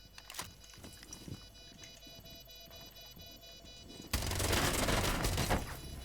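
Gunfire rings out in the video game Rainbow Six Siege on the Villa map, with scattered sharp shots followed by a loud, sustained burst of rapid fire toward the end.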